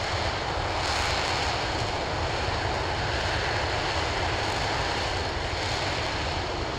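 Rocket engines of the SLS, its RS-25 main engines, roar through ascent as a steady, dense, broadband rumble at constant loudness, with no one talking over it.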